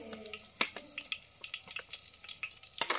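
Mutton with garlic being stirred in a pot over a village wood-fired clay stove: irregular scraping and clanking of a utensil against the pot over a soft sizzle, close and moderately loud, with no talk.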